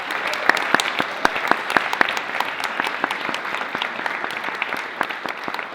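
Applause from an opening-ceremony audience welcoming new participants, a steady dense wash of clapping with a few sharper individual claps standing out near the start.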